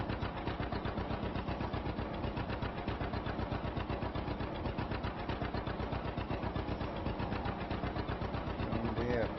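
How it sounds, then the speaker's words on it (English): Single-cylinder diesel engine of a 1949-era John Deere tractor in Farming Simulator 25, popping along in a steady, rapid rhythmic chug at a constant level, with a voice talking over it. "John Deere popping along nicely. Got a single cylinder diesel engine."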